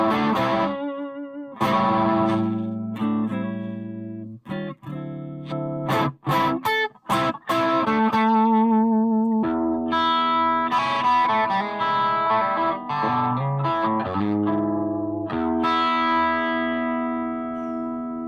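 Electric guitar played on the neck pickup through a drive pedal, warm distorted chords and single notes strummed and let ring, with brief choppy muted stabs in the middle, loud and close, no talking.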